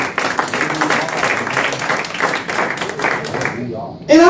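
An audience at a comedy show claps in a dense burst of applause while a voice speaks over it; the clapping fades away near the end.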